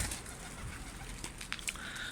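White pigeons cooing softly nearby, with a brief flutter of wings against a low background hum.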